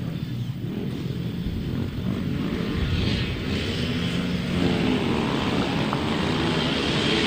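Grasstrack racing motorcycles at a 2003 festival, a steady, loud mixed engine roar from several bikes, including a buzzy two-stroke, droning continuously without a break.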